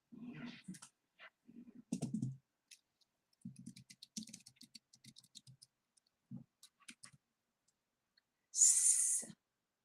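Scattered bursts of key taps on a computer keyboard, close and fairly quiet, separated by pauses and ending with a brief hiss.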